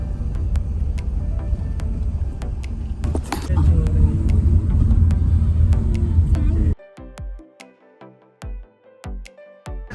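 A sleeper bus on the way to Hyderabad gives a heavy, continuous interior rumble that cuts off abruptly about two-thirds of the way through, leaving a quieter stretch with scattered knocks and clicks.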